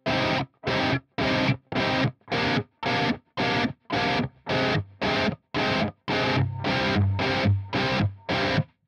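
Short, evenly spaced distorted electric guitar chord stabs in Drop C tuning, about sixteen in a steady rhythm, each cut off sharply, loud and close.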